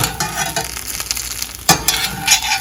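Eggs frying in a pan, a loud close sizzle broken by scraping and clacking from a utensil working the pan in uneven bursts.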